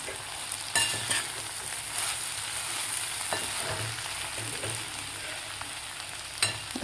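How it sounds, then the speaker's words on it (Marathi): Steady stirring of kartoli (spiny gourd) vegetable with peanut powder in a pan, a soft continuous sizzle and scraping with a few sharper clinks of the spoon against the pan, no talking. "आता व्यवस्थित मिक्स करून घेऊया."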